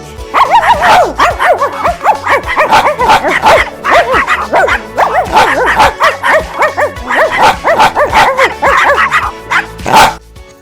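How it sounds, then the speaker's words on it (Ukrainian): Several dogs bark and yip excitedly together, loud and close, in a dense continuous chorus that ends with one sharp final bark. "треба громко гавкати"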